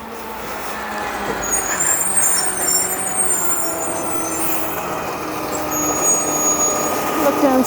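A garbage truck idles and rumbles nearby on a Halifax street in winter, its engine steady under busy traffic noise, with a hiss of air brakes and faint high-pitched whine.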